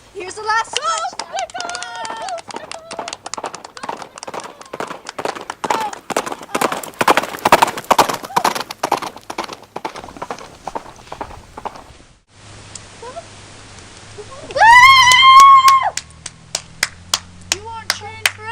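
Horses galloping past in a race, a fast thudding run of hoofbeats building loud and close before trailing off, with people talking over and after it and a short loud tone near the end.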